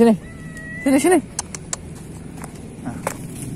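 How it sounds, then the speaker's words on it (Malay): Near the water at a wild tilapia fishing spot in Banda Aceh, a cat being given food lets out a couple of loud, close meows, followed by scattered clicks and light handling noises. "Kita kasih rezeki kucing dulu"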